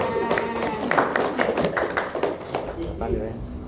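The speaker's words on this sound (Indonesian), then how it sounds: "Tepuk tangan." Short round of audience clapping at a breaking-of-the-fast gathering and annual report event, a few seconds of moderately loud claps mixed with voices before fading.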